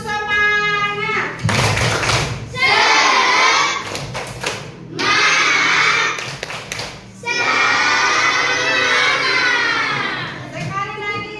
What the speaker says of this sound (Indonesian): Tepuk tangan untuk anak-anak.